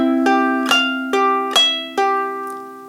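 Ukulele played clawhammer style for one measure of a folk song, five crisp plucked strums in an even rhythm, each ringing out and fading, with no voice over it.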